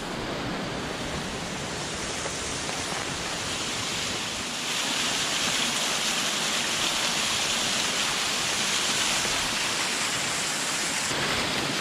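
A desert waterfall pours in a steady, dense broadband rush, loud and close, growing slightly stronger partway through with no voices.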